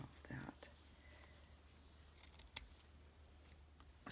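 Scissors snip through paper for a journal page, a few faint close cuts in a quiet room, with soft whispered speech around them.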